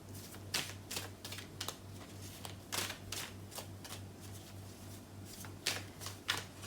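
Tarot cards shuffled and drawn in a series of crisp, quick riffles and flicks spread across the span, moderately close, with a steady low hum beneath and no talking.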